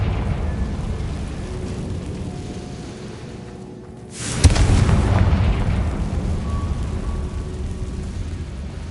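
A Confringo spell explosion in a Harry Potter video game detonates once as a loud, sudden burst, then rumbles on at high level for several seconds.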